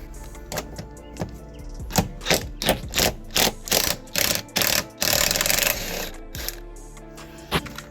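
A 12 socket on a ratchet turning an unfamiliar star-pattern bolt clicks in a close, regular series of bursts, runs into a longer rattling stretch, then gives a couple of last clicks.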